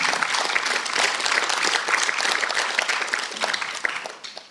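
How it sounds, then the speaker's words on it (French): Applause from the audience at a RURALITIC 2019 conference session on new public services: steady dense clapping that carries on without a break and thins slightly toward the end. "On peut vous applaudir"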